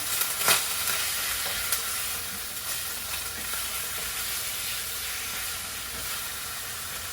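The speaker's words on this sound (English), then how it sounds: "gonna stir my meat really quick because it's just about done" Meat frying in a pan, sizzling in a steady close hiss while a few quick scrapes and taps of the stirring utensil sound near the start, moderately quiet and without talk.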